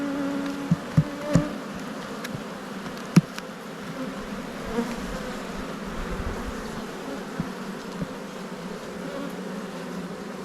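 Honey bees buzzing around an open hive during an inspection, a continuous soft droning hum close by, with a few sharp knocks and clicks of hive equipment scattered through.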